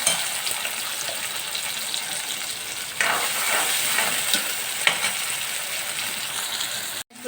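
Chopped onions drop into hot ghee and fry with a loud, steady sizzle, with stirring scrapes and brief clinks close by and no talk.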